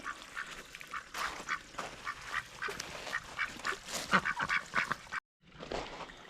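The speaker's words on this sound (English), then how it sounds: "What are those ducks doing?" Several ducks quack in a garden near a freshly switched-on waterfall, the calls bursting out repeatedly at close range over running water, then a brief gap before more quacking.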